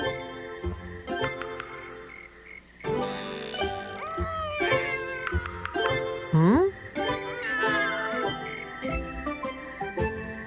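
A cat meows several times with rising, wavering cries over a busy background of music, one long drawn-out meow standing out near the middle.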